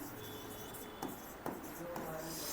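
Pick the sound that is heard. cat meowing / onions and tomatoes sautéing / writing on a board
writing on a board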